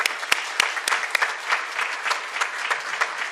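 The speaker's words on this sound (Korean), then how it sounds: "수고한 우리 모두를 위해서도 박수 한번 하시죠." Applause from a church congregation, a lively close burst of many hands clapping, with individual sharp claps popping out of the steady patter and no voices over it.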